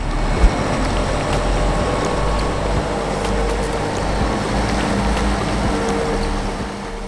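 Fendt Rotana 160V round baler working in a field during green forage harvest, a steady loud mechanical drone with low rumble running continuously throughout.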